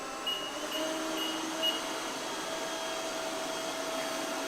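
Honiture robot vacuum and mop combo running at maximum suction, a steady, dense whirring roar that holds evenly throughout with a faint high whine over it, close and alone without talk.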